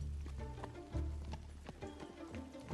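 Horse hooves gallop in a quick, rhythmic clip-clop with a low rumble beneath, the pounding strides surging in bursts as the horse runs close by.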